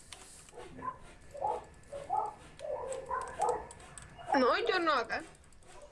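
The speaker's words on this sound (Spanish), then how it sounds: "Escucho perros." Dogs barking and yipping in the Minecraft Lucky Islands game, a short burst of sharp high-pitched barks near the end. Players talk over the game sounds throughout.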